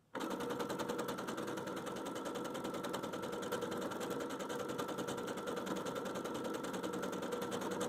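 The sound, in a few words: sewing machine stitching thick quilt layers slowly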